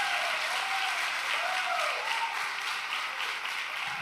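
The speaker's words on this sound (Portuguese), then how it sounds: "Bonito, aplausos" Sustained applause from a parish congregation at Mass, a dense even wash of many hands clapping throughout, with faint murmurs and a steady tone underneath.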